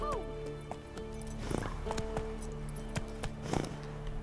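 Horse hooves in The Witcher 3 video game, faint clip-clop steps mixed with game effects and tones, with a person talking over it.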